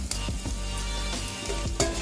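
Loud, steady sizzling of asafoetida and spices in hot oil, close up, with a few scraping stirs of a spoon against the pan.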